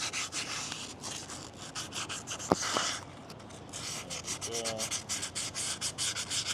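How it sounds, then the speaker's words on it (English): Sandpaper rubs rust off a car part during a 4.10 rear gear ratio swap on an E46, a steady scratchy back-and-forth scraping heard up close, with a brief word spoken midway. "Whatever sanding paper is just to take the rust off,"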